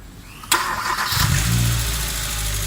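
A car engine cranks and starts after a sharp click, catching with a low rumble that settles into a steady close idle, with no talk.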